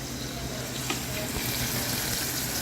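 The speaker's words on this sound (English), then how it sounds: "we've got this sautéing in just a little bit of oil here." Chicken sautéing in a little oil in a pan gives a steady, close sizzle and crackle that runs without a break, with faint clinks and stirring noises under it.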